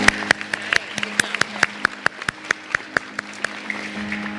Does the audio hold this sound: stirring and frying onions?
no